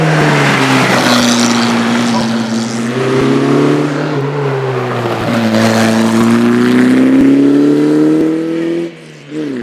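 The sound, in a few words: hillclimb race car engine, Lotus 51A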